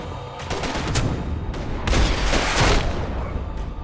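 Rapid bursts of gunfire in the video game Max Payne 3 crackle almost without pause, with heavier volleys swelling in the middle and trailing off near the end.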